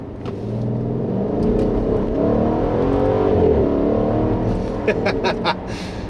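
A 2016 Mercedes-Benz GL63 AMG engine builds revs while driving, a rising cabin drone that swells and steadies, with a few short clicks near the end.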